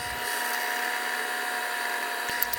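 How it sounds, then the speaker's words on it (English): A small drill bores a hole into a homemade topwater fishing lure, producing a steady high-pitched whine that runs close and loud almost throughout. "I've got my hole drilled out, and it's a little deep"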